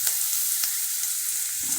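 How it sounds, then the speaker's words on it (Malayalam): Onion fries in a pan with a brief, steady hiss and faint stirring scrapes, close by. "ഇനി സവോള ഒന്ന് മൂക്കട്ടെ കേട്ടോ"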